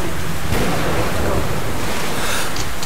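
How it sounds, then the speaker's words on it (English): Strong, loud wind roaring steadily in the video game Metro: Last Light, a dense blustery rush filling the whole short stretch with no pauses. "The wind even makes it difficult to move my camera around."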